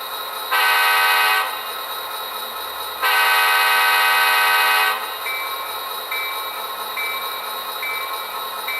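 Two long blasts of a multi-chime horn sound from an Athearn Genesis GP40-2 HO-scale model locomotive with Tsunami 2 DCC sound, followed by a steady series of bell dings that ring on without talk.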